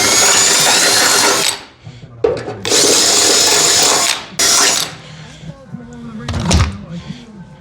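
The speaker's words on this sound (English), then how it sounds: "I'm going to start out by running a drill bit through to clean the paint off that inner edge." A power drill whines loudly in several bursts, its bit grinding paint off a metal edge, with short pauses and clunks between runs.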